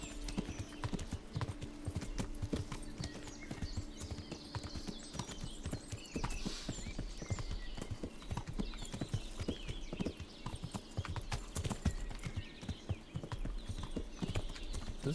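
Horse hooves clip-clop in a steady, continuous trotting rhythm in the video game Kingdom Come: Deliverance, fairly quiet, with soft ambient background and no talking.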